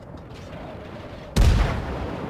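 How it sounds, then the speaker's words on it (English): Guns of the British cruiser HMS Emerald fire in World of Warships: a low rumble, then one loud booming salvo that decays into a long roar. "I'm here shooting at this destroyer because really that's what these ships are the best at"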